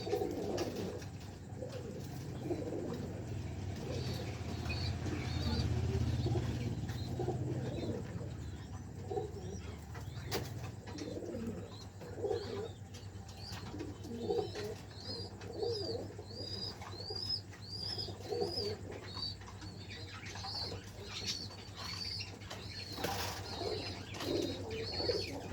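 Pigeons from a large home flock coo repeatedly at close range, with soft chirps and a brief wing flutter over a steady low background hum.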